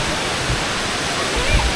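Constant roaring rush of water falling from Kuang Si Falls in Laos fills the scene, dense and unbroken, with a few low thumps beneath it.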